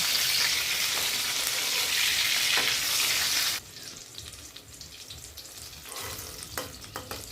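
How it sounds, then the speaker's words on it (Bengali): Small brinjals fry in white oil in a kadai, a loud close sizzle that drops abruptly partway through to a quieter crackle with occasional stirring sounds. "তেল দিয়ে এবার এক এক করে সমস্ত বেগুন হালকা লাল হওয়া পর্যন্ত ভেজে নেব"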